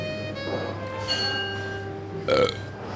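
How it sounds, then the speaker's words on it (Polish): A loud belch rises over a steady low hum at a celebratory end-of-school-year meal, followed by a second, stronger burp near the end. "Mogę bekać wszędzie, gdzie chcę."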